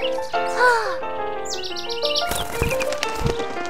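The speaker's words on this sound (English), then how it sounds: "Birds attract Groovy's attention." Cartoon birds chirp and caw in a rapid, busy string of bright, tonal calls, loud and close, ending in a clattering burst of effects.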